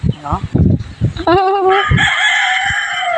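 A rooster crows loudly and close by, a long drawn-out call following some clucking and squawks from nearby fowl.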